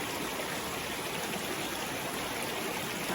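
Steady, close rush of water flowing over rocks beside an outdoor rotenburo onsen in Fukushima, Japan; an even, continuous hiss and trickle with no voices.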